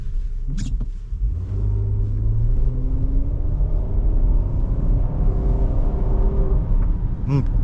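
A new Nissan Murano engine idles and hums with a low, steady rumble, a brief squeak near the start and another at the end.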